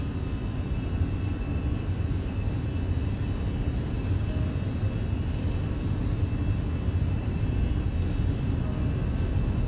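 Airbus A320 jet engines roaring steadily during a takeoff roll in a flight simulator game, a loud, continuous broadband rumble with no voices.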